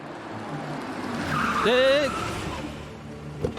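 A car skids to a stop on a street, its tires squealing in a sharp rising screech that cuts off after about half a second. A low engine rumble runs underneath, and a single short knock follows near the end.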